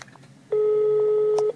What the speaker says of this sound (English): No, I think that's ringing. That would sound like an international ring to me.